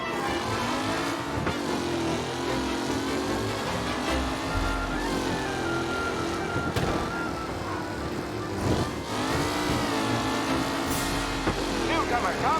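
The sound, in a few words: race cars driving in a race, from video game Mafia Definitive Edition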